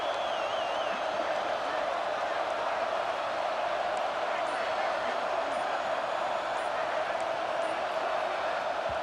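Stadium crowd roar in the EA Sports College Football 26 video game, a dense sustained wall of cheering and whooping that stays loud and steady, with a commentator talking over it.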